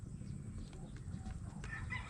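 A hen clucking by a nesting box in a small backyard chicken-raising setup, soft repeated clucks under a steady low farm hum, with a brief higher call toward the end.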